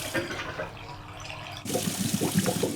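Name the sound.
cartoon washing machine running its wash cycle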